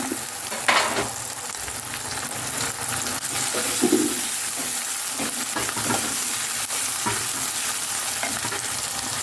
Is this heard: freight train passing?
no